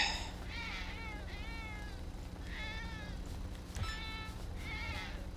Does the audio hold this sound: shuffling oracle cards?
no